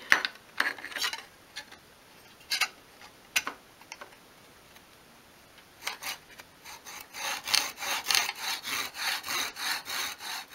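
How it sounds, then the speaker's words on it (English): Slow, careful hand sawing through a thin wooden spindle for a 1/12 scale dolls' house chest of drawers, with short bursts of strokes separated by pauses, then a steadier run of rhythmic rasping strokes close by. "when you're sawing it it can split quite easily"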